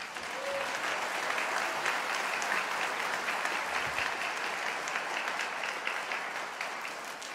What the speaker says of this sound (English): You can cheer again.